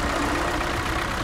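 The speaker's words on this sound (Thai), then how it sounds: "เสียงเครื่องดีนะ" An old tractor with an air-conditioned cab idles in the SnowRunner video game, hauling a fuel trailer; a steady, rumbling engine drone holds continuously throughout at close range.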